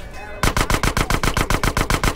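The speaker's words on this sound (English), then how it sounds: "I'm just gonna use the SMG anyway" Rapid bursts of SMG fire in GTA San Andreas, a loud, steady rhythm of about a dozen evenly spaced shots following a brief quieter lead-in.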